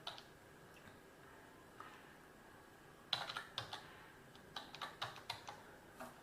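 Password typed on a computer keyboard: two short bursts of quiet, close key clicks, each a quick irregular run of a few taps, over a faint room hum with no talking.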